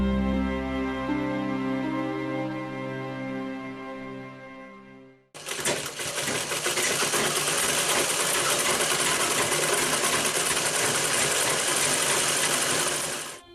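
A tailor's sewing machine runs steadily and loud at a home tailoring workshop, after a few seconds of tonal music, the motor whirring continuously with no talk.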